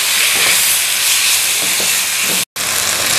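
Chicken pieces frying in a pan in a home kitchen: a loud, continuous sizzle and hiss close up, with faint stirring knocks and one brief dropout near the end.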